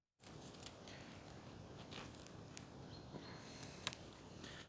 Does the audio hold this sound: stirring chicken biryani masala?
no